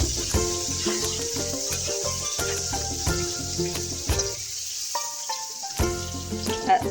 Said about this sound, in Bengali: এবারে আমি দেবো পেঁয়াজ কুচি। পেঁয়াজটাকে একটু আমি লাল করে ভেজে দেবো।